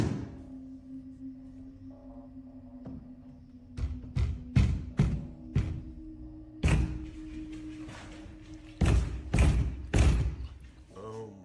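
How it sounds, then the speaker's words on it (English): A front door is pounded at night in irregular bursts of heavy thuds, a few single knocks then clustered loud bangs, over a low steady hum. "Someone, possibly the same woman, is caught banging on the front door in the middle of the night"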